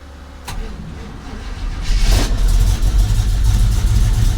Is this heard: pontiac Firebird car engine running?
yes